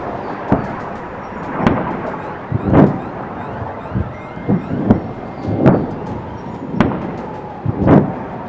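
Hezbollah rockets and guided missiles striking Tel Aviv: a series of about eight deep, rumbling explosions roughly a second apart, loud and booming with a thunder-like tail.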